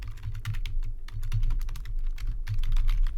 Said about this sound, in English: Let me just write this in.